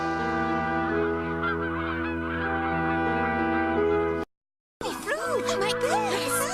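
Swans honk in an animated Ugly Duckling cartoon, loud, repeated calls rising over a steady musical backing, then a short silence and a fresh burst of wavering honks.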